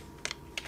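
Two quick pairs of key presses on a computer keyboard while a game title is entered, soft and close over a faint background hum.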